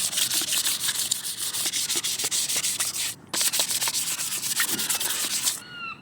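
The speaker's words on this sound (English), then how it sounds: "obviously sand over the whole thing with loads of different grades" Hand sanding a Volkswagen Polo IV 9N exhaust: close, steady rasping strokes in quick repeated rhythm, broken by one short pause midway and trailing off near the end.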